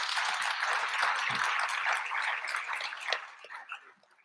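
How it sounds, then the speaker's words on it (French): An audience at a youth-policy conference applauds the speakers, a dense, even patter of many hands that holds steady, then thins and fades out toward the end. "On peut les applaudir."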